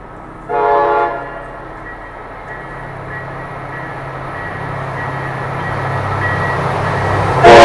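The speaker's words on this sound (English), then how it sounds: "train approaching" An American passenger train approaches a station platform, a loud horn blast near the start giving way to a steadily building low rumble of wheels and engine that grows louder toward the end.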